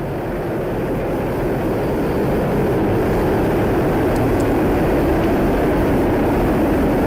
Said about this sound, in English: All 27 Merlin engines look great.